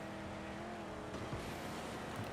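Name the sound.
car engine with upgraded exhaust in Mad Max video game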